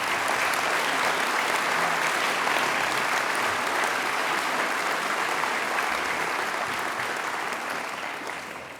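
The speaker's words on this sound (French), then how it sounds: "On peut applaudir les deux sœurs, mais aussi tout le personnel communal et leur implication de tous les jours." An audience applauds at a town New Year's wishes ceremony in Beuvry-la-Forêt, a dense and even wash of clapping that holds steady and then fades toward the end.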